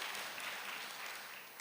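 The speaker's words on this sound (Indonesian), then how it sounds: "berikan tepuk tangan dulu buat Tuhan." A church congregation at a live service in Surabaya applauding, a faint, distant wash of many hands clapping together that stays even and soft throughout.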